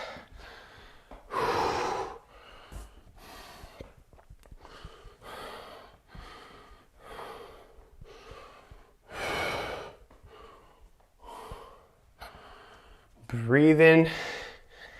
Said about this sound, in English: Breathing, working hard